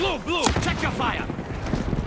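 Gunfire in a shooter video game, several quick sharp shots in the first half second over continuous game sound, with a radio-style announcer voice talking.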